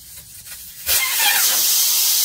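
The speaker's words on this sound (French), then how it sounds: "on va enlever l'obus de la valve pour dégonfler le pneu" Air rushing out of a car tyre valve once the valve core is removed, a sudden loud, steady hiss that starts abruptly after quiet background and continues without a break.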